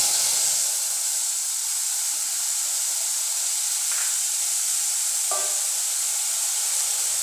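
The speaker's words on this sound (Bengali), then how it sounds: "এবার আমি যে মশলাটা গুলে রেখেছিলাম, হলুদ, লবণ, জিরে গুঁড়ো, ধনিয়া গুঁড়ো, সেই মশলাটা আমি এর মধ্যে দিই" A spice paste of turmeric, salt, ground cumin and ground coriander sizzles in hot oil in a pan, giving a steady, bright hiss with a couple of faint crackles and no talking.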